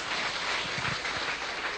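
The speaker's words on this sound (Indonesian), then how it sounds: "Berikan tepuk tangan ya mari." A church congregation claps together during a sermon, a dense, even patter of many hands held at steady loudness for a couple of seconds.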